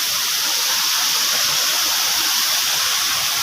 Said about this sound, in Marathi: पाटाच्या कड्याचा धबधबा मित्रांनो